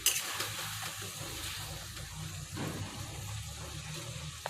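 Dry chicken masala (sukka) stirred and frying in a pan with oil, a steady close sizzle with scraping stir strokes and one louder rustling pass midway, no voices.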